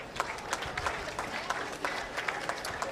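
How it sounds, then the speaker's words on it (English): A crowd at a 4-H/FFA beef show applauds the kids showing steers, with moderately distant, even clapping that carries on steadily with scattered louder claps. "Let's give those kids a round of applause."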